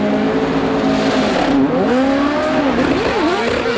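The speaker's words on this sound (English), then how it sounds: "Here the revs come up." A CART Indy car engine revs up loudly and steadily in the pit lane at Michigan Speedway in 1997, its pitch climbing and wavering over a constant roar, with faint background noise throughout.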